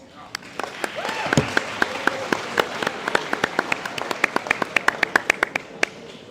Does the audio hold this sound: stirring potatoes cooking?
no